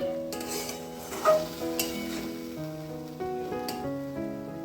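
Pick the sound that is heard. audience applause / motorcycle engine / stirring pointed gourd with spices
stirring pointed gourd with spices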